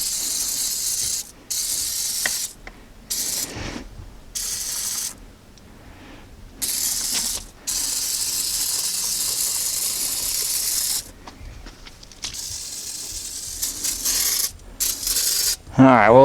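Aerosol can of degreaser sprayed onto an EK Civic hatchback's engine bay in repeated hissing bursts of varying length, close and loud, separated by short pauses.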